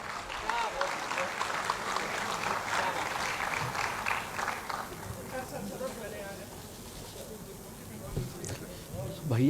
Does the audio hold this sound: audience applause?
yes